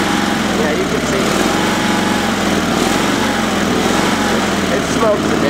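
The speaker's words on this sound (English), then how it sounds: "It seems to be misfiring a bit, or running too rich in that engine." Sears SS/16 Twin garden tractor engine running a little rough, misfiring or running rich, a loud steady close chug with faint irregular stumbles, continuous, while someone talks over it.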